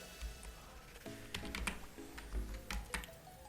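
Typing on a computer keyboard, with a run of close, crisp key clicks that start and stop in small bursts, no talking.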